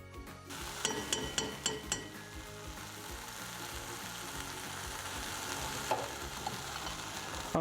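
Tofu scramble sizzling and frying in a pan, with a spatula scraping and clinking against the pan in a few sharp taps at first, then steady crackling sizzle.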